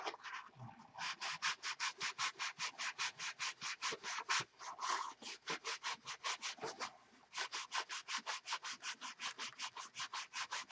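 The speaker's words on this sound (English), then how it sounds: "Cut it off, sand it straight." A cut piece is sanded straight by hand in steady, rapid back-and-forth strokes, a continuous rhythmic rasping that briefly pauses twice and carries on close up with no speech.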